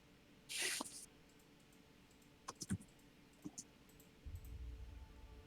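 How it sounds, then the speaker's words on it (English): Quiet bursts of keyboard clicking during a tabletop roleplaying session, a few short clustered taps and clicks spread across the stretch, faint and close, with no voices over them. "Intense typing."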